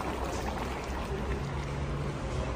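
Large pots of pilaf bubble steadily over a wood fire, a dense, continuous simmering wash that stays even and close throughout with no break.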